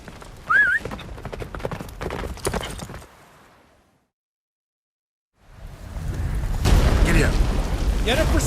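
Roach the horse gallops in The Witcher 3 with rhythmic hoof clip-clop under game voices and effects, fading out to silence for a few seconds before returning louder amid rumbling booms.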